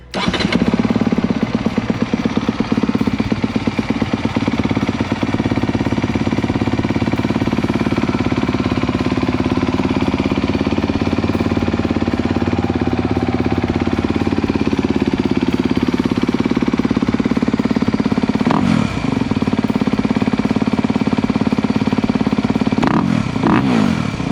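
A 2022 Honda CRF250RX dirt bike engine cranks on electric start, catches and settles into a loud, steady, rumbling idle with a few sharp blips of the throttle.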